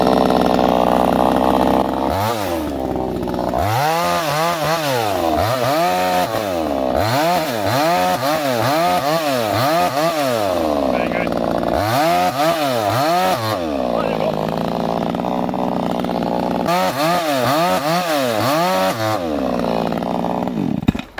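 A Parker chainsaw runs close and loud while its inertia chain brake is tested, the engine repeatedly revving up and dropping back in a series of surging bursts, with brief steadier idling between.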